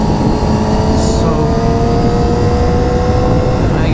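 A Yamaha R6 sport motorcycle at speed, its engine a loud, continuous high-pitched whine that rises in pitch, heard up close from the rider's position with heavy wind noise.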